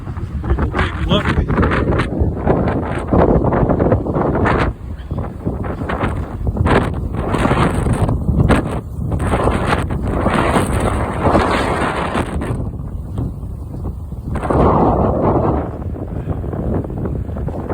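Strong wind rumbles and buffets the microphone on the lakeside Dog Crap Trail, loud and continuous, with gusts that surge and ease and a few brief lulls.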